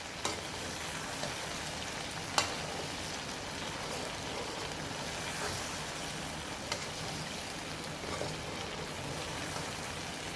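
Garlic cloves and pickle ingredients frying in oil in a pan, giving a steady, dense sizzle with a few sharp crackles and stirring scrapes, close and continuous, with no talking.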